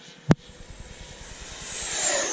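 A Freewing F-16 70mm electric ducted-fan RC jet makes a low, fast pass at full throttle, its turbine whine swelling steadily louder and higher as it rushes in close, after a single sharp click at the start.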